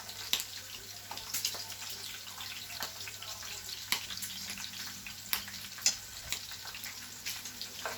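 Duck breast sizzles in a pan as its fat renders out, a steady close crackle with scattered sharp pops and spits running the whole time, no voices.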